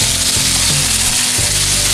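Onion and peppers sizzling loudly in a hot pan over high heat, a steady close frying hiss with rough stirring scrapes along the bottom.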